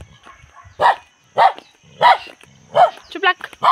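Dogs bark aggressively nearby. Single loud, forceful barks come at a steady pace, and a quick double yip follows at the close.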